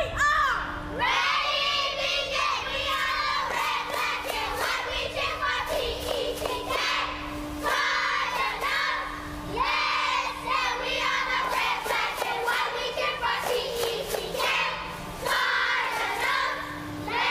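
An elementary school cheer squad shouts and chants in unison, loud and continuous, with rhythmic bursts of children's voices and claps and a steady hum behind them.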